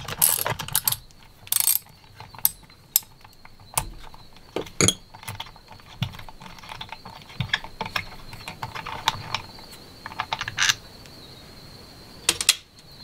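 Ratchet wrench undoing a 10mm nut on outboard forward controls, heard as a long series of sharp, close mechanical clicks in irregular bursts with quiet gaps between them.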